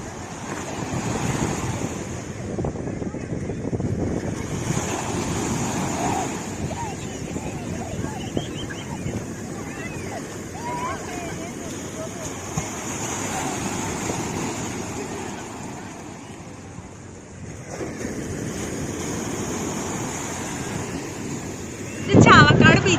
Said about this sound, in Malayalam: ചാവക്കാട് ബീച്ചാണ് കേട്ടോ.